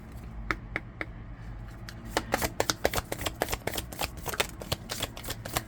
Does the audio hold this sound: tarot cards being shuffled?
yes